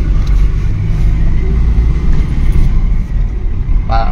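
A Mitsubishi Adventure's engine runs loud and steady with a deep, rough exhaust rumble from a holed tailpipe, heard close up at a service shop with a few brief faint sounds over it.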